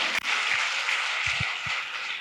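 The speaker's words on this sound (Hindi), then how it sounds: "जोरदार आप ताली बजाकर इस बिटिया का सम्मान करें" Sustained applause from a large audience at a religious question-and-answer gathering, a dense continuous clapping that fills the whole stretch, loud and close with no talk.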